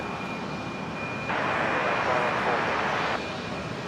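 A Fokker aircraft doing engine run-ups at Brisbane International Airport, heard as a broad roaring engine hiss that swells for about two seconds then drops back, over steady background drone and a faint high tone.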